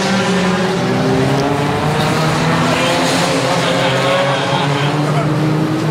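Unlimited-cc banger racing cars roar around a track in a dense, continuous engine drone, with a commentator's voice faintly running underneath.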